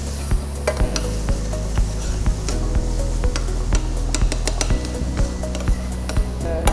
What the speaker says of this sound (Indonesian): Ini kita akan saute dia sebentar.